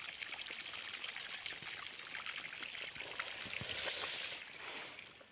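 Irrigation water runs steadily into a wheat field on a farm, a continuous close rushing and trickling flow with no voices.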